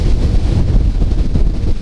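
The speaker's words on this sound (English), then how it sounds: "Man, it is windy as hell out here" Strong outdoor wind buffets the microphone in a steady, loud low rumble with gusty fluctuations at a building site, with no other sound audible.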